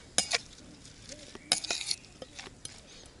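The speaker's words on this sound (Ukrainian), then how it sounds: "І це все діло перемішуємо." A salad of wild weeds stirred in a bowl, with several separate scraping, clinking strokes of a utensil against the dish, close by and quiet, no talking.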